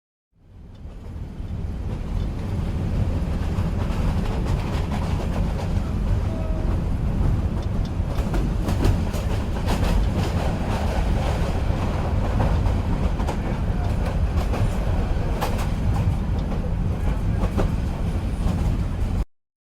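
Continuous rumble of a train rolling along the rails, with rhythmic clicks and clatter throughout, heard from inside the carriage.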